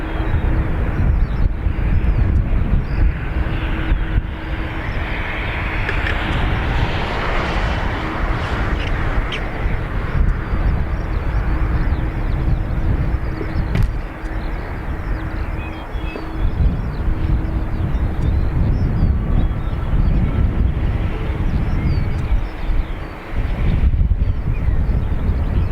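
Jet airliners departing Dublin Airport under low cloud rumble in a steady, loud, broadband roar that lasts the whole time, with heavy wind buffeting the microphone.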